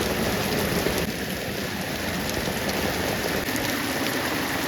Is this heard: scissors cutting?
no